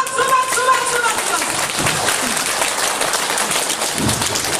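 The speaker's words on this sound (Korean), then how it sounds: "박수 박수 박수 박수 박수 박수" A church congregation at an evangelism meeting claps together, a dense crackling patter heard under a preacher's voice.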